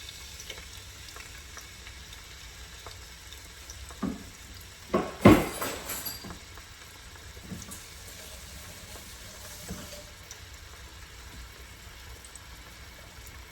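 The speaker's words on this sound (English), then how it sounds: "I'm gonna saute these. I already have the oil in the pan, like so." Vegetables sauté in hot oil in a pan for steamed cabbage and saltfish. A soft, steady sizzle carries through, with a single utensil clatter near the middle and no voices.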